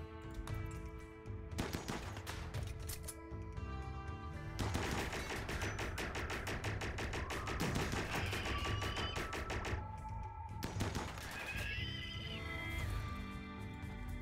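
Repeated bursts of automatic gunfire from a RimWorld battle, with squad members firing grenades and assault rifles, crackling in dense volleys with short pauses and bright synthetic impact tones between salvos, loud and continuous with no talking.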